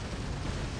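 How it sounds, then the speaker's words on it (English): A robot's weapon fires in the War Robots mech battle game, a dense, steady roar of blasts and rumble filling the whole short burst without a break. "I'm gonna shoot."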